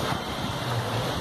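Soft, steady wash of water as ride boats come in on the Congo River Rapids at Alton Towers, a low continuous swirl heard from a short distance, no voices.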